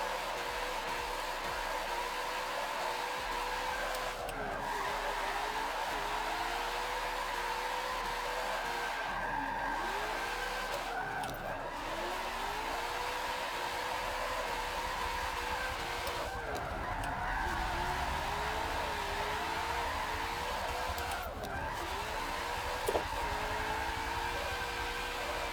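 RTR Ford Mustang drifting in Forza Motorsport 7 on cold tires: a steady engine drone with repeated squealing, wavering tire skids coming in waves every few seconds, no voices.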